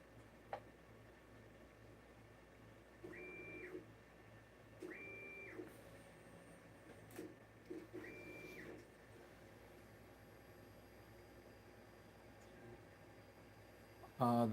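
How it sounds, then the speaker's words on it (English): A 3D printer at work on parts for a 1:5 scale flying car, giving off a steady mechanical hum with repeated short tonal stepper-motor beeps and whines, faint beneath the room noise. "The printer's going."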